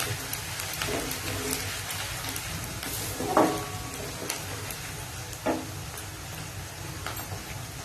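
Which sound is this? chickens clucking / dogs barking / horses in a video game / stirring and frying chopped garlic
stirring and frying chopped garlic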